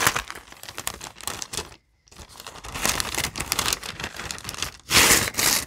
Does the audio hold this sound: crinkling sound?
yes